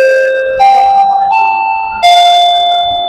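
A wireless calling bell chimes with its melody tone changed, playing a bright sequence of electronic ding-dong notes that step between pitches, loud and close with no voices.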